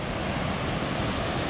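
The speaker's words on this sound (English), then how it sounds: "Here we are, Long Creek Falls." Long Creek Falls on the Appalachian Trail pours in a dense, steady roar of rushing water, loud and unbroken with no voices.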